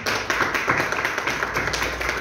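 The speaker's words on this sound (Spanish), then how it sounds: "así que un aplauso también voy a pedir por esto." An audience applauds during a public address about a new law's passage, a close, lively burst of many hands clapping with crisp individual claps standing out, fairly loud and unbroken.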